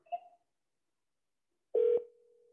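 A telephone call is placed to a prospective vending machine location and goes unanswered: a short electronic tone, a pause of silence, then a louder ringback tone that cuts off sharply and trails away, with no voice on the line.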